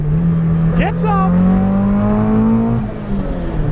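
Full-throttle acceleration from a Datsun 240Z with an SR20 engine swap: a loud, close engine drone rising steadily in pitch for about two seconds, then easing off, with a brief shout over it early on.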